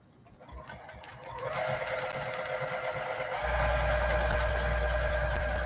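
A sewing machine doing free motion quilting on feathers: the motor starts up and stitches in a fast, steady rapid patter that grows louder and stays constant, close by.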